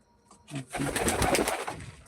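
Pigeons coo softly and repeatedly up close, with rustling and flapping mixed in and no talking.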